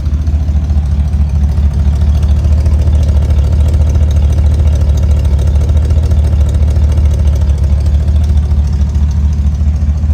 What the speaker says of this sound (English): Listen to the wonderful sound coming out of these tailpipes.